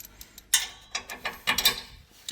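Close, irregular clicks of a ratchet spanner as a bolt is turned by hand on a fold-down T-step for a Ranger Raptor, a few separate bursts with no speech.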